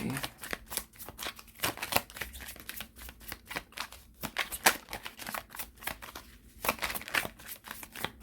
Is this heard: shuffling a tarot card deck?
yes